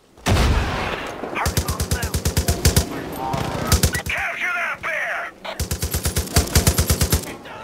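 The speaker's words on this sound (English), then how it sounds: "Aiming on this LMG, man." Rapid bursts of light machine gun fire from the video game Far Cry 5, loud and close, with several rattling volleys separated by short pauses and some game noise between them.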